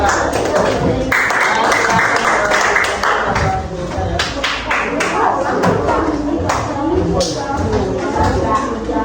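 A classroom applauds a group of students with brisk, uneven clapping from many hands that carries on for several seconds while voices talk over it.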